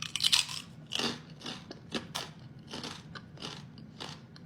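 Someone eats Saint Michael chicharon pork rinds: loud, close, brittle crunching bites followed by a series of rhythmic chewing crunches, with no talking.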